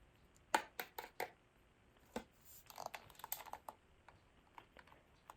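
Eyeshadow being crushed up for slime, a series of sharp dry taps and crunches, close and fairly quiet, clustered early and scattered irregularly afterward.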